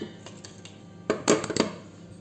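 Cake batter for a fruit cake being mixed in a bowl, with a few sharp clinks and scrapes of a utensil against the bowl, louder toward the middle, over quiet kitchen background.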